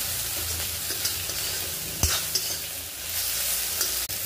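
Okra (bhindi) sautéing in a generous amount of oil over a high flame, with a steady close sizzle and a sharp stir or scrape of the pan partway through, no talking.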